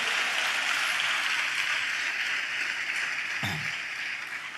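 A church congregation claps hands together in sustained, dense applause that stays fairly even, then tapers slightly toward the end with a brief low thump.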